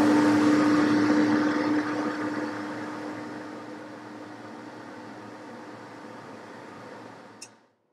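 A smoke extractor runs as a steady broadband whoosh with a constant low hum, loud at first and gradually tapering quieter over several seconds before cutting out with a brief click at the end.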